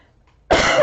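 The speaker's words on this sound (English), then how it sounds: "I'm so sorry about my coughing" A single short, loud cough bursts out after a brief near-silence.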